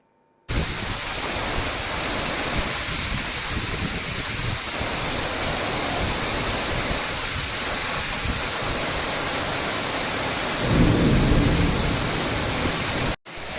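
Heavy rain pours down steadily during the Chennai floods in Tamil Nadu, a loud, dense hiss of downpour on surfaces with low rumbling swells of thunder, continuing unbroken for over twelve seconds before cutting off abruptly.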